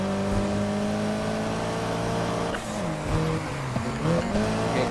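A racing car in Need for Speed Heat chases a BMW, its engine holding a loud steady whine before revving and shifting, with tires squealing through the turn, close and continuous.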